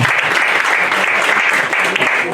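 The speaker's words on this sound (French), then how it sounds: "On applaudit la candidate numéro 7 et la candidate numéro 8 sous vos applaudissements" Loud, steady applause from an audience at a Miss and Mister beauty pageant, continuous clapping filling the whole stretch without a break.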